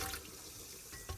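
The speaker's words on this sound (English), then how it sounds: "I'm going to actually pour it in" Vinegar is poured from a mixing bowl into a pitcher during a shower head repair, a steady close splashing gush of liquid that swells briefly at the end, with no voices.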